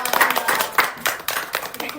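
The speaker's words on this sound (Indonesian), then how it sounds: "Tepuk tangan dulu dong" A few people on an Indonesian podcast set give a brief round of hand claps, several distinct sharp slaps close by, mixed with people talking.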